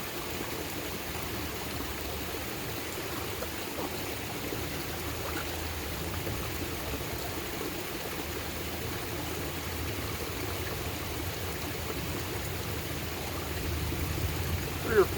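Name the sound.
rinsing a cleaned fish under running stream water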